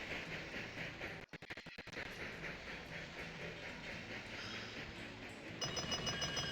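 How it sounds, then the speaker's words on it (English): A steam-era train in Railroad Tycoon 2 pulls into a station in China, with a steady rhythmic clatter and hiss, a short burst of sharp clicks partway, and a brighter tone joining near the end. "let's wait for the train to arrive"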